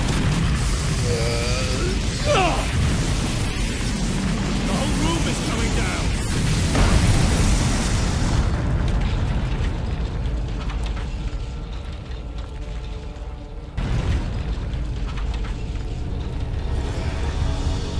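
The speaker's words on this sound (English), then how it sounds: "Well, that was an explosion." An explosion in the video game Warhammer 40,000: Space Marine booms and crashes, followed by rumbling debris and mechanical noise that tapers into a quieter, lingering roar, with game voices heard in places.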